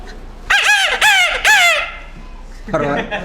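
A voice imitates a grey junglefowl's crowing call: three loud, rising-and-falling cries in quick succession, followed by a shorter, lower call.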